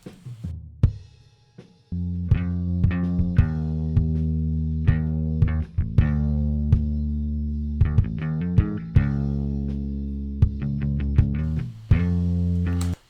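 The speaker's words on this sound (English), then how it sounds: "let's just listen to the kick and the bass together" Kick drum and clean DI bass guitar playing together in a mix, steady sustained bass notes punctuated by regular punchy kick hits, close and with no voices.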